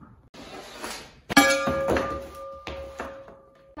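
A hockey puck strikes a Windwell middle bell shooting target hung on a net, giving one sharp metallic clang that rings on, followed by a couple of fainter knocks.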